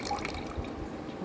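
Kokum syrup poured into a glass of half lime juice for a Goan kokum soda, a soft, steady liquid trickle with faint dripping, close by and heard alone.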